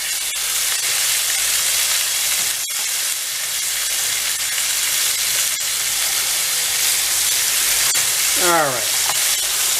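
Beef browning in a hot pan, sizzling loudly and steadily throughout, with a brief spoken word and a short whistling sweep near the end.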